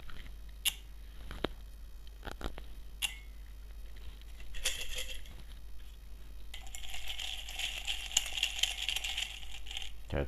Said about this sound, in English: Try to shuffle them as best as I can.